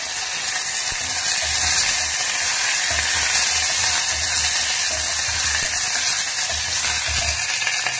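Curry leaves and dried red chilies, added after cumin, sizzle and crackle steadily in hot oil while tomato rasam is cooked, with a constant bright hiss and occasional louder pops, close and alone.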